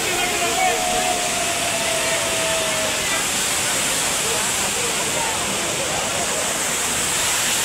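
Steady, loud roar of rushing water from the waterfall at Bhushi Dam, Lonavala, a constant broadband wash with no breaks and a faint thin tone drifting through early on.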